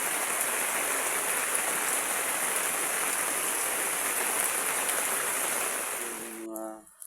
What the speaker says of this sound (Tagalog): Lumakas yung ulan ngayong alas 4.